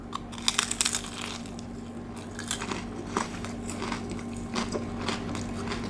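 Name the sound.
biting into a crunchy spicy lamb snack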